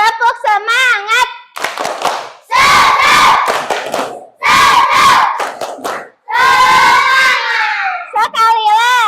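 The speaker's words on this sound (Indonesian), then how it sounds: "Coba tepuk semangat." A classroom of schoolchildren performs the rhythmic tepuk semangat cheer, loud bursts of unison clapping mixed with shouted chanting after a teacher's short sung lead-in, several strong blocks separated by brief gaps.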